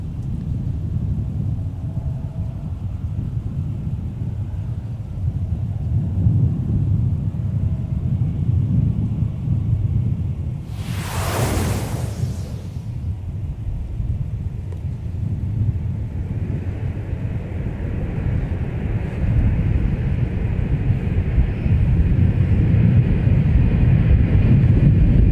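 A jet airliner landing on runway 30 left at MSP airport rumbles steadily at a distance, with low engine roar throughout and a brief loud burst in the middle.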